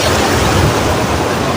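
Sea waves break along the shore at Kashaphal beach in Balasore during the 2025 Baruni fair, heard as a steady, close, roaring wash of surf with no voices.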